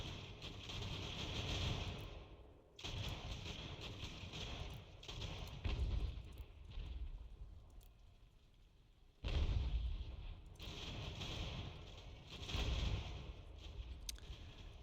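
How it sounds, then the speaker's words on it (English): Artillery booms and rumbles in an Ultimate General: American Revolution video game battle, a series of low, heavy bursts that swell and fade over a constant roar of battle. "Apparently that artillery just sent us running."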